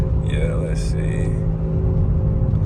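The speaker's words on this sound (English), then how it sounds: "I do hear the turbos a little better." Ford Taurus SHO with turbos accelerating, a steady engine drone with a faint high turbo whine, heard from inside the car while a voice briefly talks over it.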